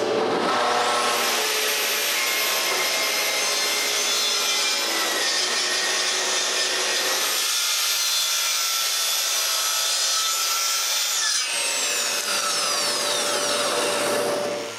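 Power saw cutting the top panel of a wooden bookcase to width, a loud continuous whine running almost the whole time, with its pitch and load shifting midway and spinning down near the end, no voices.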